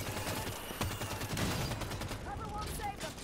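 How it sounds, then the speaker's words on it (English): Enemy gunfire rattles in Halo 5: Guardians, a steady run of rapid shots and bursts in the background while a voice talks over the fighting. "he's shooting us from the ramp"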